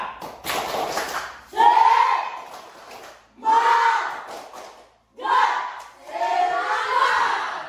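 Classroom students doing the 'tepuk semangat' spirit clap chant: loud group voices shouting in unison in several bursts, with claps mixed in and short pauses between phrases.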